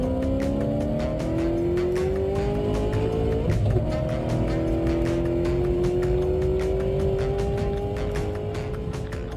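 American muscle race cars scream around the track on their last lap of a semi-final, engine notes rising and sliding in pitch as they pass, loud and continuous with no talk.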